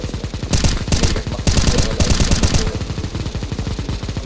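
A video game weapon fires continuously in a rapid, even stream of shots, loud and close, growing louder in several bursts before settling back to a steady rattle, with no talk.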